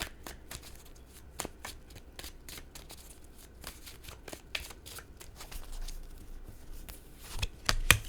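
A deck of tarot cards is shuffled by hand, producing a quick series of soft, crisp riffles and slaps, close and quiet, with no talking.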